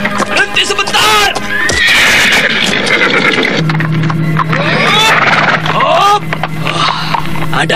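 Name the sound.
horse hoofbeats and neighing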